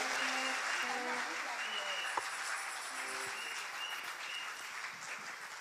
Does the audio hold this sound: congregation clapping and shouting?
yes